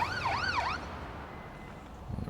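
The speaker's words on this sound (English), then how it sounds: "I'll put the sirens on." A wailing ambulance siren in a video game sweeps up and down twice, then cuts out, leaving a low rumble with a faint thump near the end.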